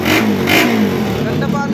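An Rs200 fuel-injected motorcycle engine runs close and loud with a rough, slightly revving tone, while someone talks over it.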